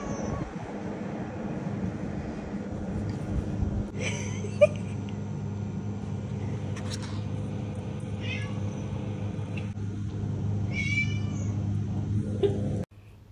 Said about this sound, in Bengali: ইউটিউব থেকে ক্যাট সাউন্ড দিয়ে আমরা রিওর সাথে একটু প্র্যাঙ্ক করছিলাম